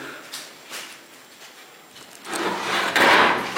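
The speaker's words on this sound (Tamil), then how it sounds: "டேய் எதுக்குடா கதவு மூடுறா?" A wooden door scrapes and thuds shut close by, after some quieter rubbing and shuffling.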